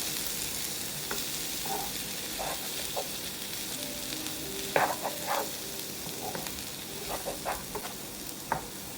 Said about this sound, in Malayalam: ഇനി ഇത് ചെറിയ തീയിൽ നല്ലതായിട്ടൊന്ന് മൊരിച്ചെടുക്കണം.